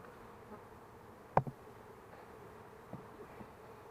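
Honey bees buzz in a soft, steady drone around a pair of swarm hives in an apiary yard, with one bee passing close by in a brief louder buzz.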